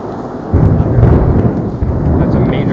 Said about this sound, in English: That's a major thunderstorm happening right now.